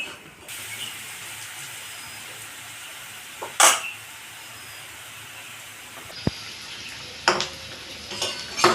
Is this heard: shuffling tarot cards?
no